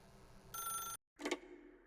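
A telephone rings in the video game The Stanley Parable: one bright electronic ring burst, a brief silent gap, then a second ring that fades into a low hum, close and alone with no talk.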